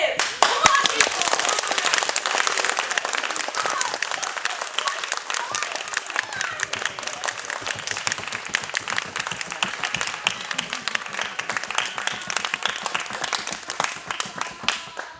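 A theater audience at a comic stage play claps hard and steadily for about fifteen seconds, a dense, loud rush of many hands that tapers slightly toward the end.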